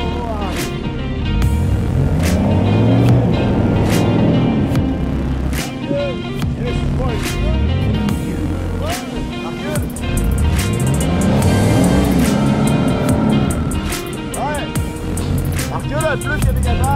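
A vehicle engine revs hard and then eases off in repeated surges while driving through mud, loud and close, with people talking over it.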